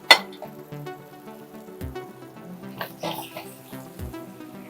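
Seasoned zucchini slices for ratatouille sizzle on a grill, a soft continuous crackle broken by occasional clinks and taps of utensils against the pan.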